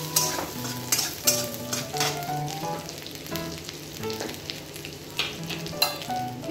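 Grated ginger and green chili fry in hot oil with a steady close sizzle, while a spoon stirs the pan in repeated scraping strokes.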